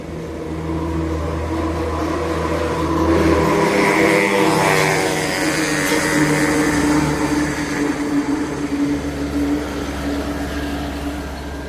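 A tow truck drives along a road, its engine a steady loud rumble that swells and revs midway before settling back into a constant drone, with no talking.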